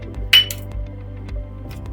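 A metal spoon clinks against a container while sugar goes into a thick Schezwan sauce on the stove, one bright clink followed by faint soft taps over a low steady hum.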